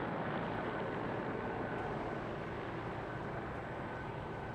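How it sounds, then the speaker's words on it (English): Multi-role medium-range anti-submarine torpedo-carrying helicopter with a Rolls-Royce engine flying at an airshow in Eastbourne, a steady broadband engine and rotor roar at even loudness, fairly distant, with no talk. "multi-role, a medium-range anti-submarine torpedo-carrying helicopter"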